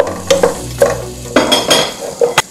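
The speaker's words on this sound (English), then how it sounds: "And I'm just going to saute this until it becomes nice and soft." Onions and garlic sautéing in melted butter: a low sizzle punctuated by several loud, close stirring scrapes and clacks of a utensil against the pan in an uneven rhythm.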